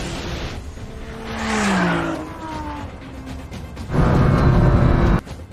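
A 1600 hp Nissan GT-R, a McLaren 720S and an Audi R8 racing, with engines wailing and rising in pitch, then a loud burst of tire roar and wheelspin near the end.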